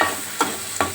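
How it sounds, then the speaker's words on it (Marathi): Ground green masala paste frying in a pan for fish fry, a continuous sizzle with two quick stirring scrapes, close. "मी हे फ्राय करते वाटण"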